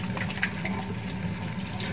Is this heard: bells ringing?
no